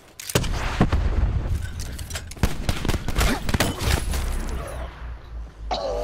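Gunfire in the video game Call of Duty: Black Ops 4 crackles in irregular loud bursts of shots and impacts over dense battle noise, close and continuous for several seconds.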